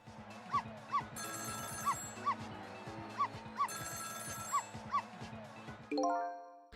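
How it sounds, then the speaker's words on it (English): A telephone rings in the apartment next door in the video game Ghost Trick, a bright repeating ring over game music with rhythmic barking, then the music changes at the end. "It was the sound of a telephone ringing, coming from the apartment next door."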